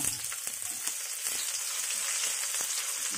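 Garlic sautés in oil in a pan while cooking dinuguan, a close, steady crackling sizzle with small pops and occasional stirring scrapes throughout.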